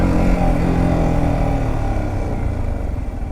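A keyless Yamaha MT-15 motorcycle engine runs nearby with a loud, low, steady rumble that eases off slightly toward the end, heard alone without speech.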